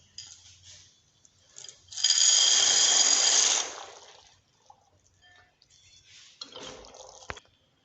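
Dry macaroni tips into a pot of boiling water with salt and cooking oil, giving a loud hissing, rushing burst of a second or so, then a quieter bubbling and a few light clinks.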